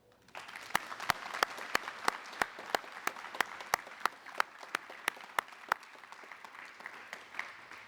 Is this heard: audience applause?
yes